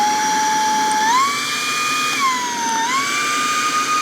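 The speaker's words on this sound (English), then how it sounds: "Let's try to vacuum this up." A vacuum cleaner runs steadily with a high whining motor tone that rises and falls in pitch as material is sucked up, loud and close with no talking.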